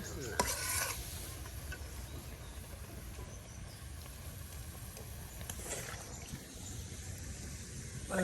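Magur catfish sautéed in spice paste, a low continuous sizzle with scraping and rubbing stirs, faint and close with no voices.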